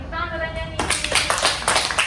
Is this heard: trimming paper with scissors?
no